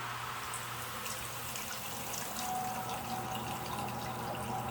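A washing machine switches on and fills with water to rinse hand-dyed yarn, a steady rushing flow with a low motor hum running throughout.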